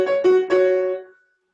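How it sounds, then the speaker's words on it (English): A solo violin from an Elliott Carter string quartet plays a short sustained phrase built on a perfect fifth, with two quick re-attacks before the held note fades over about a second. "Then the first violin responds with his perfect fifth, the same high note."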